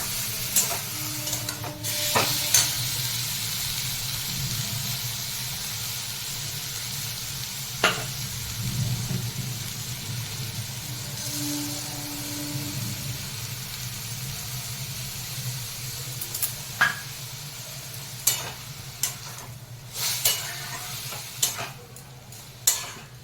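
Soft frying sizzle runs steadily in a pan as mustard and poppy seed paste goes in for a drumstick flower curry, with scattered utensil clicks and stirring scrapes growing more frequent near the end.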